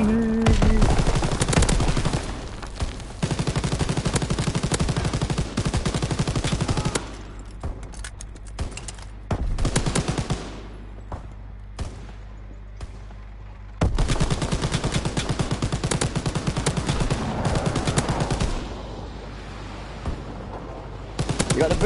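Heavy machine-gun and rifle fire from a Call of Duty WW2 battle at a bridge, with long loud bursts and rapid rattling volleys broken by brief lulls and scattered single shots, and players talking now and then.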